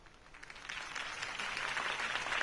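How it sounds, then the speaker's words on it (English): Crowd applause in a Telltale Batman video game, a dense wash of clapping that swells steadily and grows louder over a couple of seconds, with no voices over it. "If only Mr. Wayne, my campaign's largest backer, could have heard that applause"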